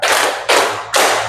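Students clap in a classroom, giving three loud, evenly spaced claps, each a broadband smack that decays quickly before the next.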